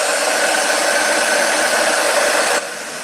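A hair dryer blowing steadily and loudly on a rustic pumpkin craft, a continuous close whoosh that drops slightly in level near the end.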